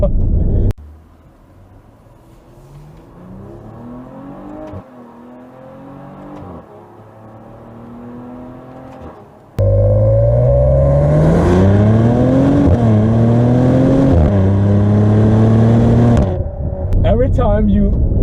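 A 2020 Maserati Levante S engine revving and accelerating hard, quieter at first, then a loud close roar with rising pitch sweeps as gears shift, with people talking over it.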